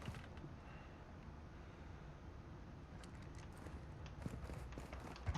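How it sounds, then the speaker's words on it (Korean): Faint footsteps sound in a multiplayer shooter video game, a soft series of light taps that grow a little more distinct toward the end over a quiet background hum. "어 아니다 발소리"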